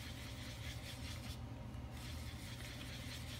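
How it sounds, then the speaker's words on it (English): Steady, continuous rubbing rasp of fine wet abrasive working up and down a pen, close and even, with no voices. "We're basically just wet sanding this"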